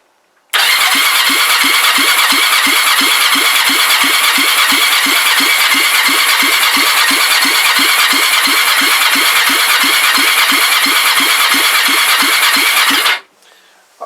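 A Kawasaki GPZ500S motorcycle engine turns over on its electric starter in one long, steady cranking run of rapid, even pulses that never catches, loud and close, then stops abruptly.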